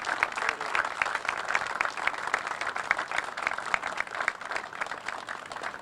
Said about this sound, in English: May we please have a round of applause for her efforts and her grace through these years.